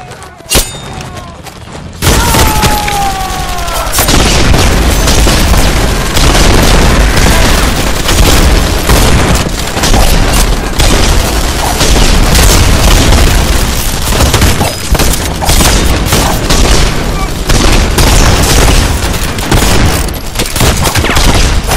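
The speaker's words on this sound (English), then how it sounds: "They have snipers covering us!" Intense combat in The Expendables 2 video game, with dense, loud gunfire bursts and booming explosions rolling continuously after a brief quieter opening, close and overwhelming, with a voice shouting briefly early on.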